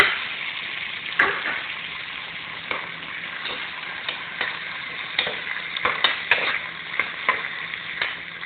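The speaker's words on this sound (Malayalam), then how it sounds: "എണ്ണ ചൂടായി കഴിയുമ്പോൾ ഇതിലേക്ക് പച്ചമുളകും സവാള" Green chillies and sliced onion fry in hot oil with a low continuous sizzle. Scattered stirring clicks and taps sound close by, and no one speaks.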